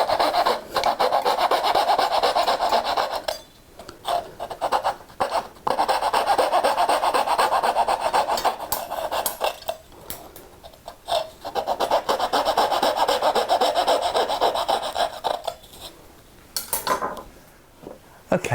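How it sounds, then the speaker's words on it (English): Hand tools cutting and cleaning out wooden dovetail tails, heard as close repetitive rasping and scraping strokes in bursts separated by short pauses. "with all the tails cut down to the line and cleaned out"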